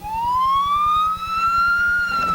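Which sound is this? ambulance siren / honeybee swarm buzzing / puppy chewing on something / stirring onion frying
ambulance siren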